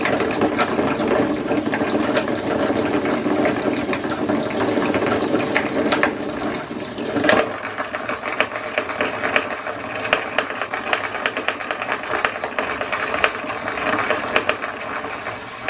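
A fishing reel with a high gear ratio winds line onto its spool in a close, continuous ratcheting whir of clicking gears. It keeps a steady pace throughout, with a brief catch partway before the winding resumes.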